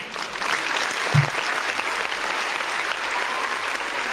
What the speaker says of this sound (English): Give a round of applause to Chael